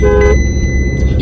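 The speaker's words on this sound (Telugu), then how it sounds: "ఏంటి హార్న్ కొడుతున్నావు ముందు నేను లేకుండా?" A loud car horn blares briefly at the start over a rumbling engine and road noise, close by.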